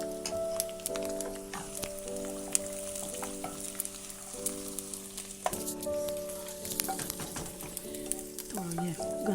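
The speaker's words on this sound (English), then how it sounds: "We just added it into the dal and we're just mixing this around now." Tadka stirred into chicken dal, giving a steady sizzling, bubbling fry with scraping spoon strokes against the pot, fairly quiet and close, with no talking.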